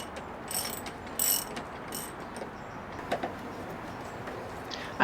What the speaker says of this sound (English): I can tighten the lock bolts properly now